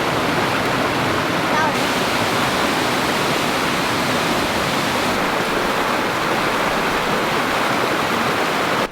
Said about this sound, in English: There's a beautiful waterfall down there.